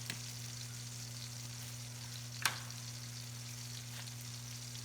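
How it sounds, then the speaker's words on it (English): Butter sizzles in a hot pan with green beans, a steady, soft, even frying hiss over a low electrical hum, with one brief sharp click partway through. "We're going to add a little butter into that pan."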